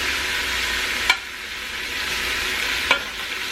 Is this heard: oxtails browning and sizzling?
yes